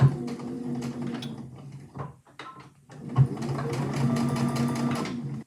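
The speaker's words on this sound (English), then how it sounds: "So I'm going to set off sewing. I'm going to do a little bit of a back stitch" A sewing machine stitches fabric for a small hand sanitiser holder, running in close, brisk bursts, pausing briefly mid-way for a back stitch, then resuming a steady mechanical hum.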